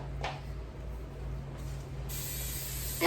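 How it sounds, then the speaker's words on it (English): A short aerosol hiss of non-stick cooking spray onto a pan starts partway through and runs to the end, after some faint mechanical clicks in a quiet room. "just generously spray the pan so that we don't have any sticking going on."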